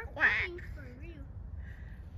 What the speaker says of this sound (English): They're gonna be like quack, quack